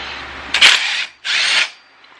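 A power tool whirs in two short bursts, the first with a sharp initial bite, as it backs out a 1/2 inch exhaust pipe bolt on a Harley Davidson Ultra Classic, close and loud with no talk.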